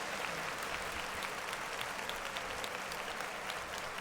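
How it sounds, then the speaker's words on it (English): An audience at a Monday church service claps together, a faint, even spread of many hands heard from a distance throughout. "Clap it up."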